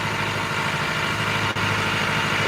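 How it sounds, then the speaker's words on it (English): A fishing boat's propulsion motor runs steadily, a constant low rumbling drone with even vibration and no change in pace, close and continuous with a brief dip midway. "That's the boat engine."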